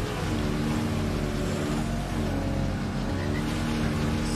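A steady engine roar with layered harmonic hum, loud and continuous, a vehicle accelerating in State of Decay 2 on Xbox Series.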